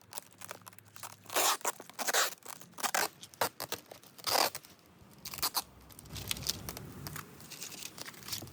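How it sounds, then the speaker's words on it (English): Vermiculite sprinkled by hand onto milk jug planters for winter sowing, making dry, crunchy rustling bursts in irregular clusters up close, then a softer, steadier gritty patter toward the end. "Sprinkling vermiculite."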